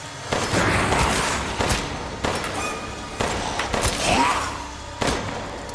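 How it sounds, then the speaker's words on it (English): Shots are fired at an enemy in Resident Evil Village, a series of loud, close gunshots with booming reports spaced about a second apart, each trailing into a short echoing tail. "let me shoot you real good"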